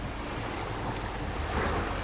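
Ocean waves in Hawaiian waters wash in a soft, continuous surf with wind buffeting the microphone, steady and fairly quiet throughout.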